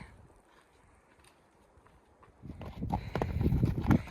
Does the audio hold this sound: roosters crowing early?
no